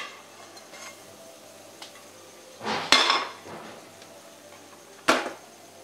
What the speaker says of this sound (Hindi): ढोकला को पलटने के लिए मैंने यहाँ पे बड़ी प्लेट ली है और ऐसे हम पलटा देंगे।